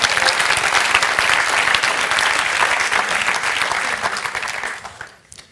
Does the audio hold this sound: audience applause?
yes